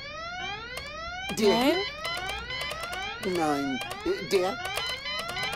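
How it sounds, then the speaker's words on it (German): Alarm blaring in the point-and-click adventure game Goodbye Deponia, a rising, repeating siren-like wail sustained throughout with someone speaking briefly over it. "Schalten Sie unverzüglich diesen verdammten Alarm aus."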